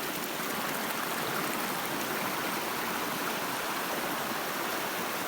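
Creek water rushing steadily at a trail crossing on Wilson Creek along the Mountains to Sea trail, a loud, close, continuous broadband wash with no voices.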